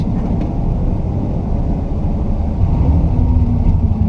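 A car with a three-on-the-tree column shifter pulling away as the clutch is let out, its engine giving a loud, close, steady low rumble that swells slightly partway through, with no talking.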